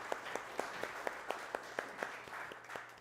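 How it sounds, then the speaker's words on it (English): Faint, sparse clapping at a county board meeting, a few distinct evenly spaced claps repeating in a slow regular rhythm over a quiet room. "a big round of applause"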